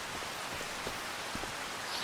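Steady rain falling in the Farming Simulator 25 video game on a Louisiana farm, a soft continuous hiss with a few scattered drop taps, fairly quiet and even throughout, no talking.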